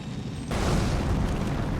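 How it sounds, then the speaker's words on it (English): A bug explosion in the video game Elden Ring bursts in abruptly about halfway through, then a loud, dense, rumbling roar holds steady to the end with no talk over it. "Be wary of bug explosion."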